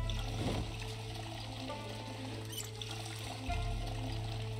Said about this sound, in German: Jetzt trinken wir erstmal kurz was und befüllen mal kurz beide Wasserflaschen.